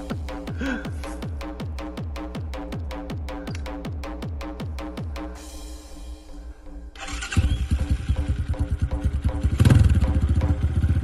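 An enduro motorcycle engine cranks with a fast, steady chain of sputtering firing pulses, dips briefly, then catches and revs louder and rougher near the end, recorded close up with no talk.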